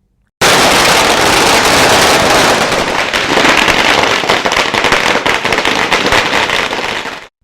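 Firecrackers burst nonstop outside the AIADMK district office in Madurai during a party celebration, a loud, dense crackling barrage that starts abruptly and carries on to the end.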